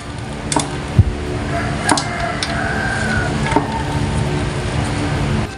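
A torque wrench clicks as it tightens a CVT cover bolt on a Honda Click 125 scooter. A few sharp, separate clicks ring out close by over a steady background hum.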